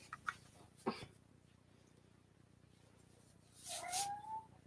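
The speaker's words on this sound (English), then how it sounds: "Don't mind my cat. He's just meowing in the background." A cat gives a short, rising meow near the end, preceded by a few soft clicks and knocks in an otherwise quiet room.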